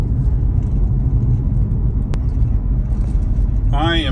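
A Tesla Model Y electric car drives slowly home, with steady low road rumble and tyre whir from inside the cabin, continuous throughout, and a brief voice near the end.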